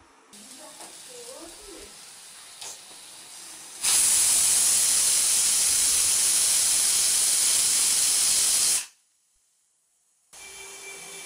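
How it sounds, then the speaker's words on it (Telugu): A pressure cooker on a stovetop vents a loud, steady hiss of steam for about five seconds while cooking moong dal. Quieter kitchen sounds come before it, and the hiss cuts off abruptly into near silence. "ఇలా స్టవ్ మీద పెట్టి 1-3 విజిల్స్ వచ్చే వరకు ఉంచాలి"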